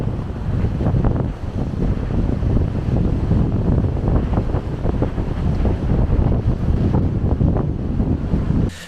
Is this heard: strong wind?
yes